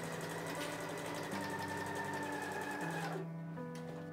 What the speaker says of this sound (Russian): по открытым срезам прокладываю строчку для того, чтобы впоследствии собрать на сборку